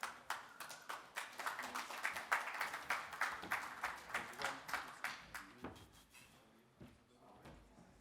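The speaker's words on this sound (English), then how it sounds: "Give him a round of applause." Scattered clapping from a small audience at a music and NFT panel event, with sharp individual claps in a steady patter that thins out and fades toward the end.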